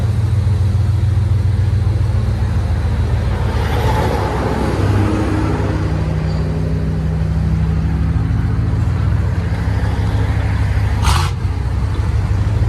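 A loud Chevy/GMC 5.7L V8 truck engine rumbles steadily at idle through its exhaust, deep and close, with a brief higher whine near the end.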